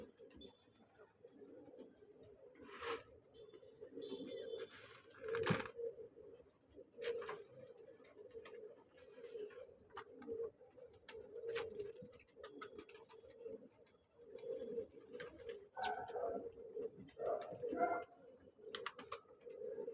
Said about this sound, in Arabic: فرد الحمام ماسك القمرايه